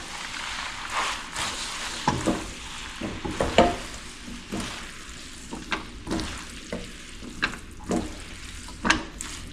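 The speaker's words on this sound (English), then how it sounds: "I'm gonna give one last stir" Salmon pasta gets stirred in a frying pan, a spoon scraping and clinking in uneven strokes over a steady soft sizzle, close and fairly quiet.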